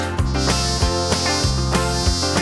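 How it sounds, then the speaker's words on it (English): Insistent insect buzzing drones close by, swelling and pulsing in a steady rhythm like mosquitoes circling near the ear. "the mosquitoes go as they buzz around your ear"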